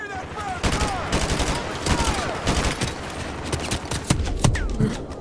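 Dense gunfire and rapid automatic bursts fill a Call of Duty: Modern Warfare Remastered battle, with sharp cracks and clattering volleys repeating loudly throughout, a voice talking briefly in the mix.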